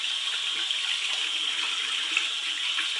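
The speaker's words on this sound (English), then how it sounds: "Wash my hands." A faucet runs steadily into a sink during handwashing, a constant close hiss of flowing water with no breaks.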